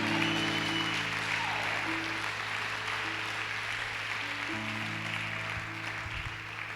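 A church congregation applauds steadily for several seconds over sustained keyboard chords, the clapping a continuous wash that softens slightly toward the end.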